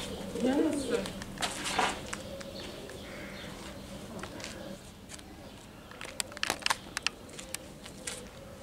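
A pigeon coos softly near the start at a church in Jerusalem, a few low burbling calls at middle distance, followed by ambient outdoor noise, footsteps and scattered clatter.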